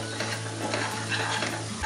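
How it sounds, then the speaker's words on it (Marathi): Masala with turmeric and Koli spice mix frying in ginger-garlic paste, a steady close sizzle with stirring scrapes running throughout, no voices. "मसाला चांगला आलं लसणाच्या पेस्टमध्ये परतून घ्यायचा आहे."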